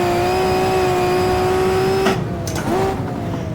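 A Maserati 250 race car's engine holds a loud, steady high-pitched drone under throttle through a turn, briefly dipping and cutting out before picking back up, with no talking.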